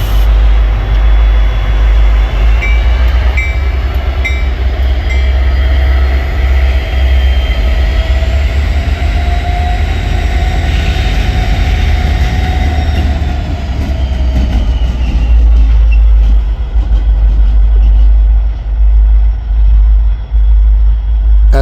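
A triple SD40E diesel locomotive lash-up pulling up beside a post office, with a loud, sustained engine roar and rumbling wheels, horn-like tones briefly sounding as the train rolls close by and then slowly fades.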